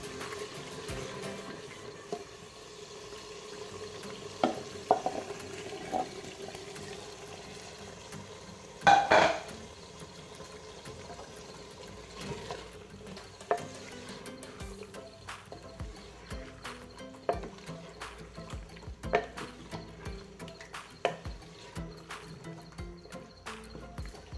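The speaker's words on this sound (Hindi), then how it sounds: "भून कर कलेजी इसमें मिक्स करेंगे।" Liver (kaleji) being fried and stirred with roasted spices in a pan, a steady low sizzle broken by scattered clinks and scrapes of a spoon against metal, close and quiet, with no voices.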